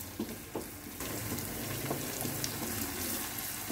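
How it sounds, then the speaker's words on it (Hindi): Ginger-garlic masala fries in a pan for a tota mirch sabzi, giving a soft, continuous sizzle at low volume with a few faint clicks and no voices. "इसे अच्छी तरह से फ्राई कर लेना है हमें"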